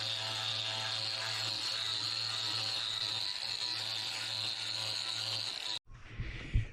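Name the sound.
orbital sander with 40 grit sanding ohia wood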